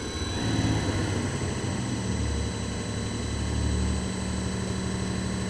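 A modified CP3 high-pressure diesel fuel pump runs on a test bench at 750 RPM and 100 MPa, giving a steady loud mechanical drone with a strong low hum and whining tones throughout.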